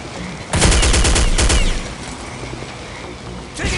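Rapid gunfire from Counter-Strike: Condition Zero in a swamp hostage mission, with a loud sustained burst of shots, a short lull of quieter background, then another burst starting near the end.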